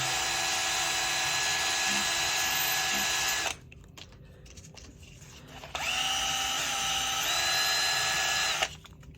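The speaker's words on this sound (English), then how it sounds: "you do want to polish them up just to improve the way it spins" A rotary tool polishing small model car wheels, emitting a high steady whine in two bursts separated by a short quiet pause, close and fairly loud, with faint talking.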